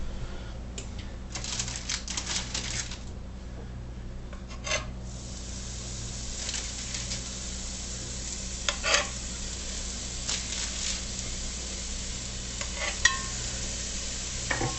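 Ground beef sizzling in a hot, oil-free cast iron Dutch oven, a steady dense crackle with occasional louder spits and pops, close and continuous with no talking.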